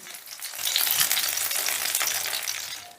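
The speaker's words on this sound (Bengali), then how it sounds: "ঠিক একই পদ্ধতিতে বাকি মাছগুলো ভেজে নেব" Rohu fish pieces sizzle and crackle in hot oil, a dense continuous frying hiss with small pops, close and fairly loud, no talking.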